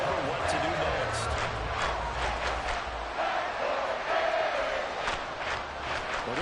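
A large football stadium crowd roars and cheers at the AFC Championship game with the Dolphins. The continuous wash of noise swells slightly and sits under a voice talking.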